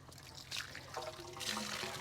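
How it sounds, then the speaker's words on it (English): Water collected in a bucket trickles and pours into a turbidity tube outdoors, a close, continuous liquid gurgle that swells slightly in two surges, with no talk over it. "we're gonna pour water that we just collected in this bucket"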